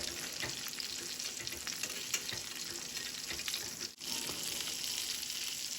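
Blackened salmon fries in a pan with a steady, dense sizzle that crackles close and loud throughout, broken by a brief dip near the end, with no talking.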